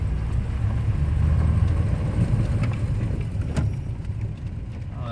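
Citroën DS wagon engine idling, a steady low rumbling drone held close and even throughout, with light mechanical ticks on top.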